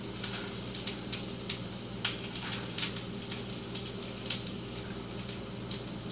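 Frozen dumplings sear in oil in a pan, a soft, fairly quiet sizzle running throughout with irregular small pops and spits.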